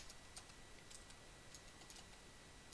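Soft, rapid keyboard typing in short bursts with brief pauses, faint and steady in a quiet room.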